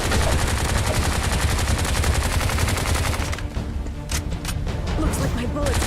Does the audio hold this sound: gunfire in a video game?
yes